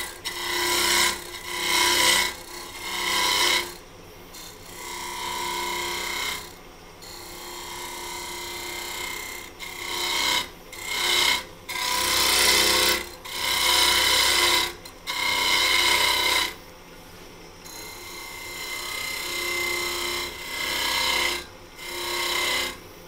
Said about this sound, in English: Then we'll go back to the spindle gouge and start shaping it.